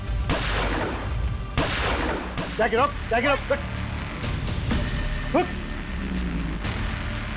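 Several sharp gunshots crack out at uneven intervals in a tense crime-drama standoff, loud and close, with people talking and shouting between the blasts.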